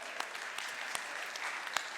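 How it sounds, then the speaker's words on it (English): A church congregation at a Sunday morning service claps in a brief, lively burst, many hands together with a few sharper individual claps standing out. "Give yourself a round of applause."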